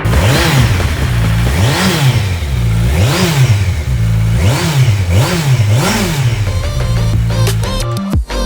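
A 2020 Kawasaki Ninja 1000SX ABS sport bike revved repeatedly while standing, rising and falling engine pitch about once a second, loud and close, then settling to idle with a few clanks at the end.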